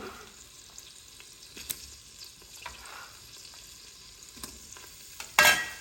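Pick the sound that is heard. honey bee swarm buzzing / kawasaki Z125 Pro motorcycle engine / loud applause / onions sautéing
onions sautéing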